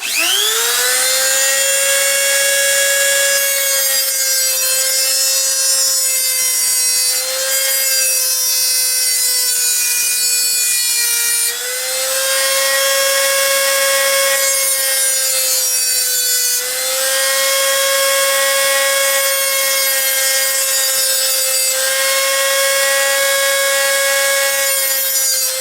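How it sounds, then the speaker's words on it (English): A Dremel rotary tool grinds down a part of a Zaima Celeste butane lighter with a loud, close, high-pitched whine that runs continuously, its pitch wavering slightly as pressure on the part changes. "Dremel tool here."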